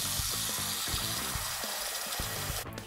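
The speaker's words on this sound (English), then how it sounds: "Let me just fill up Duke's bowl with some water" Tap water runs and splashes into a dog's bowl in a home kitchen, a steady hissing stream heard close up, stopping near the end.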